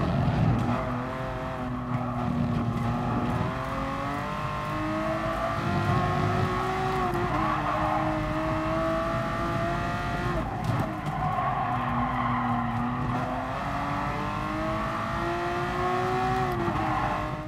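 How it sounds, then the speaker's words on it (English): Race car in the video game GT Sport, engine howling steadily with rising and falling revs through gear changes and corners, loud and continuous with faint tire noise. "Absolutely awesome car to drive."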